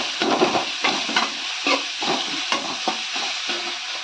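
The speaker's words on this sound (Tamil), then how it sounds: "ரெண்டு நிமிஷம் நல்லா வதக்கிக்கலாம்" Vegetables sautéing with salt in a pan for idli, a close continuous sizzle broken by regular spatula scrapes and stirring strokes.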